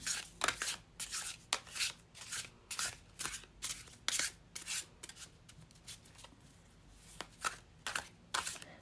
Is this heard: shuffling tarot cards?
yes